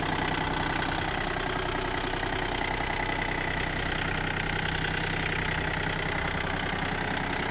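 A Japanese mini tractor's small diesel engine, with a glow plug per cylinder, idles steadily up close, a constant rumbling drone with a rhythmic knock and no voices.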